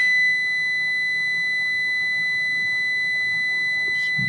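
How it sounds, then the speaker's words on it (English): A multimeter in continuity mode gives one steady, continuous high beep that sounds loud and close and lasts the whole time. "beeping mode."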